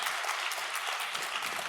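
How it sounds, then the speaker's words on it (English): An audience in a main conference hall gives a full round of applause, steady and dense for the whole stretch, with no voices over it. "we give you a big round of applause"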